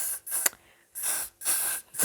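Got2b glue spray misted over a lace frontal wig in short aerosol hisses: three or four close bursts, each under half a second, split by brief pauses and a small click.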